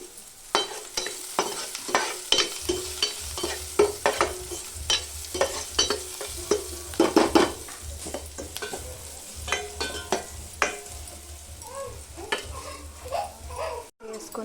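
Potato fry with turmeric and salt stirred in a pan, a spoon scraping in steady repeated strokes over a soft sizzle, close and fairly loud with no talking.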